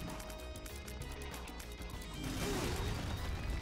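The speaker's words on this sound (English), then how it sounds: "What on earth was that explosion?" An explosion goes off in the modded video game The Binding of Isaac Repentance, a loud crashing burst over busy game music and effects, swelling toward the end.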